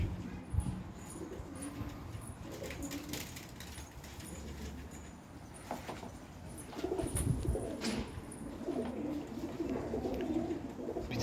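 Filo Elvan pigeons coo softly in a loft, low rolling calls repeating throughout, with faint wing flutters, clatter and distant background noise.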